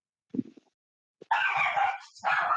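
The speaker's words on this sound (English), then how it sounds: "Yeah, that's a dog." A small dog barks and yips nearby in a few quick bursts, starting with a low huff and then two longer, higher barks, fairly faint against a quiet indoor background.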